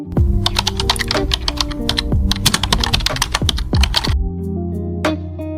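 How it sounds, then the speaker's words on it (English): Someone types a URL on a computer keyboard in a browser, a quick, uneven run of close, crisp key clicks lasting several seconds, then a few final taps. "Type in the URL box."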